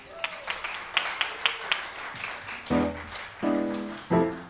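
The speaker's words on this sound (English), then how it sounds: "Give yourself another round of applause," A handful of scattered, separate hand claps ring out from a small audience at a jazz quartet performance. Sustained tonal sounds from the stage follow the claps.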